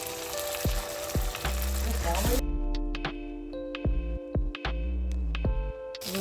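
Spice paste of green chili, dried chili, ginger, turmeric and salt frying in a pan for a prawn dish, a loud crackling sizzle with scraping stirs, someone talking over it.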